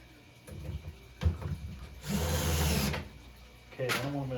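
A power drill drives a screw into an arcade cabinet under restoration, a couple of short whirring bursts close by, with someone talking between them.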